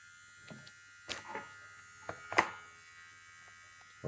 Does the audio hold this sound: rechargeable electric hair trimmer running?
yes